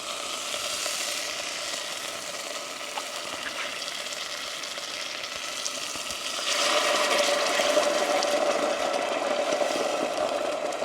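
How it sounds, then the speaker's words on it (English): Curry paste and coconut milk sizzle steadily in a pot while being stirred, a constant close frying hiss that grows louder partway through, with no talking. "Just mix all the curry paste in with the coconut milk."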